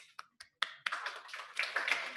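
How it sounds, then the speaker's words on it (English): Applause from an audience at a lecture event, beginning as a few scattered claps and quickly swelling into steady, fairly quiet clapping from a small group. "Applause."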